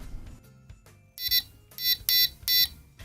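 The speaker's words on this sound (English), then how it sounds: "now when the button is pressed, the buzzer will sound" An electronic buzzer wired to a push button sounds in four loud, shrill bursts of beeping, coming in quick succession after a brief quieter lead-in.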